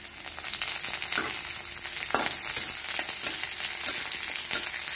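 Onion and green chili frying in hot oil with mustard seeds for a potato curry, a steady close sizzle broken by a few soft stirring scrapes.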